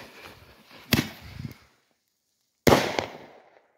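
An outdoor firework mortar shell launched from a tilted tube in snowy weather, a sharp launch crack with crackle, a short silence, then a loud booming burst that rolls and fades.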